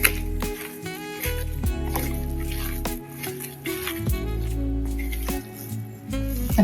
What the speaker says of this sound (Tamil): இந்த எல்லாத்தையும் போட்டு நல்லா ஒன்று சேர மிக்ஸ் பண்ணிக்கணும்